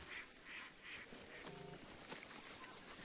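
Geese honk repeatedly in the ParadiZe video game, a series of rhythmic calls in the first half over steady game noise, followed by a brief tonal effect.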